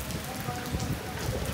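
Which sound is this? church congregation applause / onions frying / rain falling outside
rain falling outside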